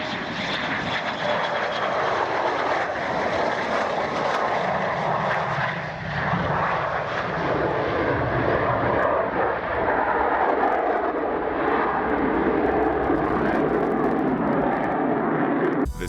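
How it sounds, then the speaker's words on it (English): Fighter jet landing in grass short of the runway, a loud continuous engine roar with rumbling and rushing noise throughout, close and unbroken, with no talking. "This fighter jet touched down in the grass just short of the runway as a result of landing too early."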